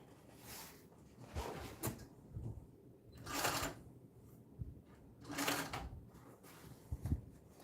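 Sewing machine top stitching a lined garment, close and quiet, with several short bursts of stitching separated by pauses and small handling clicks.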